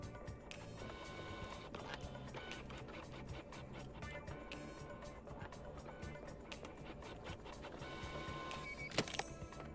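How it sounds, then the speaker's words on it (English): Printer running in the multiplayer spy game Deceive Inc, a steady mechanical whirring with rapid regular clicks across the whole stretch, mid-distance under game ambience, with a sharper clack near the end. "Oop, someone's printing."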